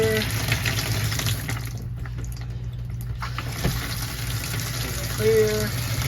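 Water streams steadily from the shower faucet of a Heartland Trail Runner travel trailer, a continuous rushing hiss over a low hum, with a few faint clunks and squeaks along the way.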